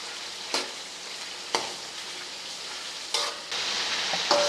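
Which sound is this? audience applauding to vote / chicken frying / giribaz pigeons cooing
chicken frying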